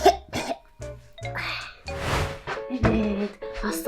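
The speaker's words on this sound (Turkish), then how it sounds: "Öksürürken ağzınızı kapatsanız iyi olur köpekçikler." Cartoon puppies in a children's video game cough repeatedly, a string of short, close, scratchy coughs and throat clearings at irregular intervals.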